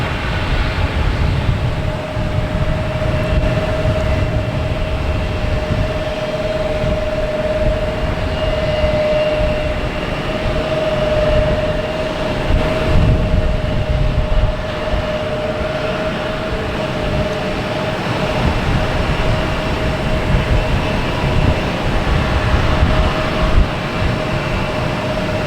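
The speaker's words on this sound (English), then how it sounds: "next takeoff we have a Delta A321neo heading to San Diego" A Delta Airbus A321neo takes off at Boston Logan, a loud steady jet roar with broad rumble and a sustained whine holding throughout, heard close and without speech.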